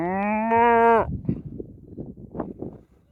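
A cow on a grassy hillside below Mission Peak near Fremont, California gives one loud, drawn-out moo lasting about a second, followed by faint rustling and outdoor noise.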